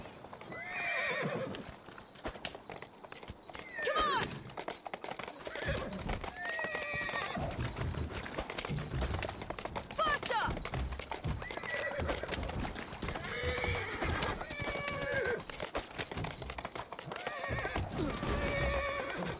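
A horse in Assassin's Creed Syndicate clip-clops steadily over hard ground and lets out several shrill neighs and whinnies, with a voice talking over it at times.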